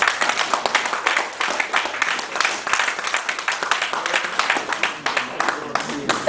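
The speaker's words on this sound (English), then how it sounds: "give these fine ladies another round of applause" A convention crowd of Nigerian sports journalists gives loud, close hand clapping, a busy stream of individual claps that continues steadily for about six seconds.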